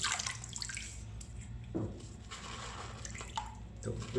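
A small splash of water added to shaving soap in a bowl, giving close, wet dribbling and light sloshing with a few soft clinks.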